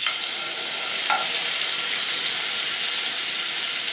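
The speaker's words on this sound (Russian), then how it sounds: "Как оно шкварчит прекрасно." Steady, dense sizzling of zucchini and mushroom pieces frying in a hot pan, a continuous crackling hiss with a faint clink near the start and no talking.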